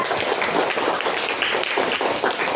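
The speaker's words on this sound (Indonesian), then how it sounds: "tepuk tangan dulu buat Raisa" A classroom of primary pupils claps for a classmate during a micro-teaching lesson, with dense, steady applause from many small hands filling the room throughout.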